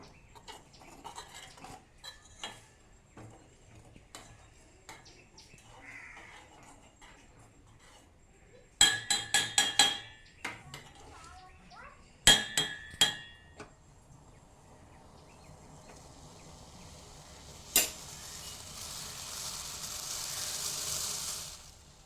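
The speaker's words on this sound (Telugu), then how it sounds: "ఇప్పుడు నేను టీని తిప్పుతున్నాను" Soft metallic scraping and clinks of a spoon stirring boiling tea in a pot, with bursts of clattering and a rising hiss of simmering liquid.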